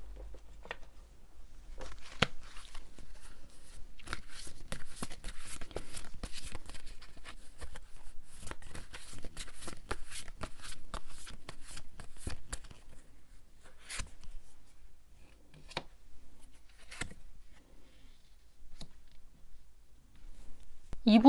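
Tarot cards being shuffled by hand during a reading, a quiet, dense run of soft riffling and slapping through the middle stretch, then a few isolated card taps and clicks near the end, with no talking.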